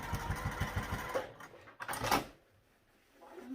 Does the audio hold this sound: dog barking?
no